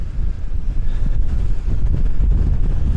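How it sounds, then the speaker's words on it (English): Strong wind at Loch Skene buffets the microphone in a steady, low roaring rumble with gusty swells, loud and continuous, no voices. "Very, very windy."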